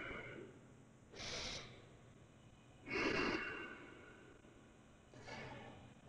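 Three slow, audible breaths during a quiet yoga flow, each a soft airy swell about a second long with still pauses between them, close to the listener and with nobody talking.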